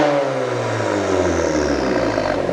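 VW Golf Mk8 GTI fitted with a 3-inch downpipe and GPF deleted, exhaust held in a loud, close rev, a sustained droning roar with pitch sliding gradually downward over a couple of seconds.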